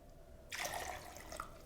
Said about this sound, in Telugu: తరువాత వీటికి 2 కప్పుల పరిమాణంలో వాటర్ని యాడ్ చేసుకుంటామండి.